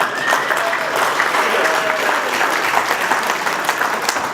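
An awards night audience gives a round of applause, loud, continuous, dense clapping with a murmur of crowd voices running through it from start to finish.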